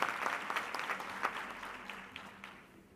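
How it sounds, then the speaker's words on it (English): An audience applauds at a university graduation ceremony. The dense clapping starts loud and fades steadily over a few seconds. "Another big round of applause, please."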